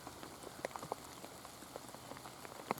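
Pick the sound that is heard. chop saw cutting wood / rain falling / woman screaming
rain falling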